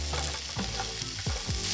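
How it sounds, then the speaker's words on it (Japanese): Cut carrots frying in olive oil in a waterless pot heated over medium, a close, steady sizzle and crackle broken by a few scraping stirs, with no voices. "無水鍋を中火で熱し、オリーブオイルを敷いたら、適当な大きさに切った人参を入れます。"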